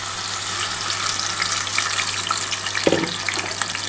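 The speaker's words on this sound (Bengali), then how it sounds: "এই যে মশলাটা যে লেগে আছে সেই জলটাই দিয়ে দিলাম।" Spice-coated water poured into a hot pan of tawa chicken, giving a steady watery rush and sizzle with a short, louder splash near the end. No talking.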